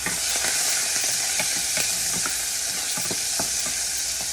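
Oil sizzling in a pan while Jamaican ackee cooks, a dense constant frying hiss with scattered pops and utensil clicks, close and unbroken, no talking.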